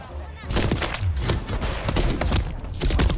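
Rifle fire in Call of Duty MW3, a dense run of sharp cracks and booming reports, close and loud, with a voice talking over the shooting.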